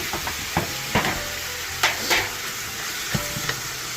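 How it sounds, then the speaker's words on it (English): Pork butt sizzling and frying in a pot while being cooked for dinuguan with white turnips, a steady close crackle broken by several sharp scraping stirs, with no voices. "So let's cook this pork butt."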